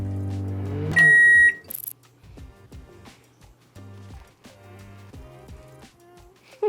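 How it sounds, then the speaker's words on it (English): A few electronic beeps from a microwave oven heating a baked potato, followed by clattering and soft handling noises nearby, with no talking. "pop it in the microwave to heat it up"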